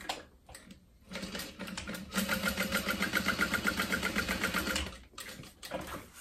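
A sewing machine stitches across either side of an open butterfly seam on a zip top tote bag: short bursts at first, then a steady, rhythmic, close whirring run of about three seconds, ending with a few brief stitches.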